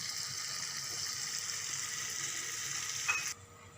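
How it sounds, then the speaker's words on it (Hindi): Steady sizzling of ginger frying in butter in a pan, close and continuous, with a brief clink near the end before the sizzle suddenly drops away. "अब हम इसमें अदरक ऐड करेंगे। इसको हल्का सा फ्राई करेंगे।"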